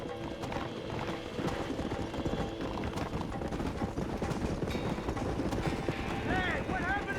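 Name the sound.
horses galloping, hoof clip-clop in Red Dead Redemption video game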